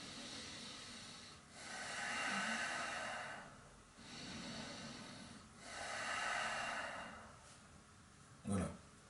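Slow abdominal breathing during a yoga exercise, close and airy: three long hissing breaths in a steady rhythm, each swelling and fading over about two seconds, followed by a short sharper exhale.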